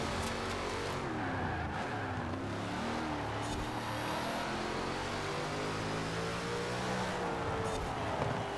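A big American V8 in Forza Horizon 4 roars and revs continuously at close range, its pitch climbing and falling through the gears with a few brief tire squeals mixed in. Nobody speaks.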